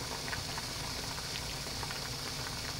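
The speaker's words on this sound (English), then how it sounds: "Remember to boil your fiddleheads for at least 15 minutes" Fiddleheads boiling in a pot of water, a dense close bubbling churn that stays steady and even throughout, with no voices.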